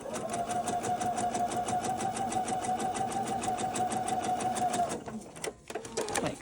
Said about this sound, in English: And I'll sew these together.